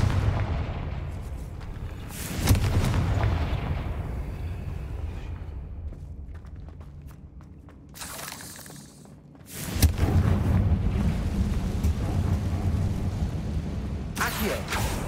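Confringo blasting spells in the Hogwarts Legacy video game set off loud booming explosions, one early, then a sharp crack and a heavier blast later, each followed by a rumbling decay with scattered debris noise.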